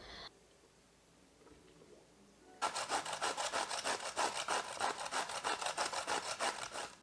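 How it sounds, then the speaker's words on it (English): Zucchini being grated with a food processor: after a few seconds of quiet, a loud, close, rhythmic rasping starts abruptly and repeats in quick even strokes to the end. "Clearly, I don't know how to use this food processor for grating for now."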